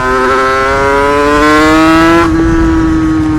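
A Sherco motorcycle fitted with a 74 Terzo kit runs close by, its loud, steady engine drone holding a high pitch that climbs slightly before settling.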